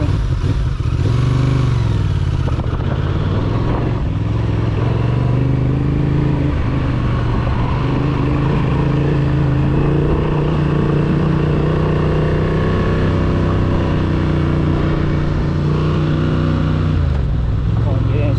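A 2025 Honda Transalp motorcycle rides slowly along a gravel road with traction control and ABS off. The engine drones loud and steady at low speed, close up, with crunching and rattle, and the rider talks over it throughout.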